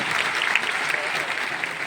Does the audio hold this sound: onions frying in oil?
no